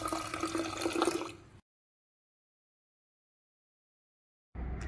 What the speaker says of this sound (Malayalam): ഇനി നമ്മൾ തിളപ്പിച്ച് ആറാൻ വേണ്ടി മാറ്റി വെച്ച വെള്ളത്തിൽ നിന്ന് കുറച്ച് ജാറിലേക്ക് ഒഴിച്ച് നന്നായി ഒന്ന് ഇളക്കാം